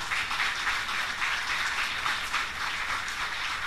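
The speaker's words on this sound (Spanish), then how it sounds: "Denle un aplauso a Jesús." Church congregation applauding during a sermon, a steady, even wash of clapping heard from some distance, moderately loud with no pauses.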